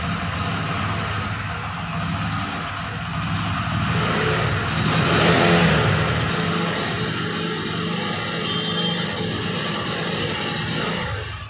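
Car engine with a misfire, revved lightly on the accelerator, a steady close engine drone that swells briefly mid-way and settles, with no talking.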